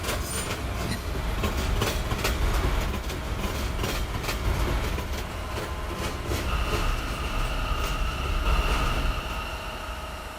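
A K local subway train runs along the line with a loud, steady rumble and clattering wheels, and a thin squeal rises in the second half.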